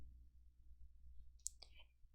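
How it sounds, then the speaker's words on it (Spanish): A single computer mouse click on a button in Excel 365, sharp and brief about midway through, followed by a couple of faint softer clicks over a quiet low hum. "hacer clic al botón Ir."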